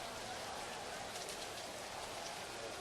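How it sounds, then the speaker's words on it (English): Steady, heavy downpour during an outdoor preseason football game between Canada and Australia: a continuous, even hiss of rain with no breaks, fairly faint. "it's just a downpour out there."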